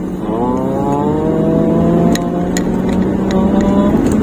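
A Toyota Innova 2.4 diesel with automatic gearbox accelerating hard, a loud steady engine drone rising in pitch as revs climb over a couple of seconds, with faint clicks near the end.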